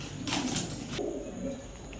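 Pakistani Teddy pigeons cooing nearby, low rolling coos repeating over a short stretch, with a brief rustle partway through.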